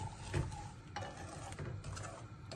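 Semolina and gram flour roasting in melted ghee, stirred with a spoon, make a quiet scraping and shuffling with a faint sizzle, repeating in uneven strokes close by.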